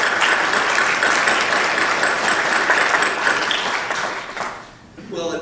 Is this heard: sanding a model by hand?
no